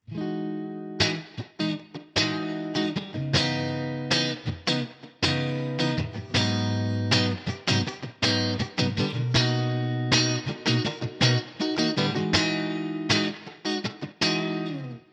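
A clean electric guitar plays a rhythmic strummed pattern with a touch of reverb, chords ringing briefly between sharp attacks, with no voices.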